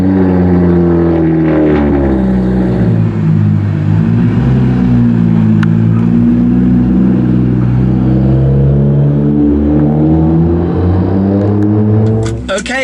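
A BMW 1M safety car engine runs with a close, steady, deep harmonic drone that dips and rises slightly in pitch, before a brief clatter at the end.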